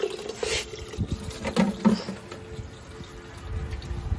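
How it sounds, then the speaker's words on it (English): Houseplants are watered indoors, with uneven splashing and trickling of water into pots, in short irregular bursts at moderate loudness over faint background noise. "Time to water all the plants."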